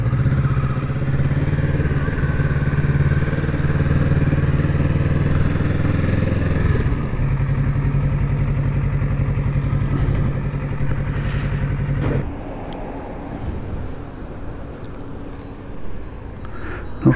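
A 2025 Kawasaki Z650 motorcycle rides around town, its engine droning loud and steady up close, then the note drops and becomes rougher partway through as it slows.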